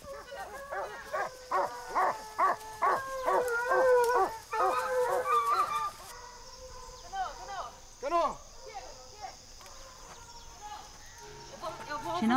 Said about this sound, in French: Les chiens ont retrouvé la piste de Lenda.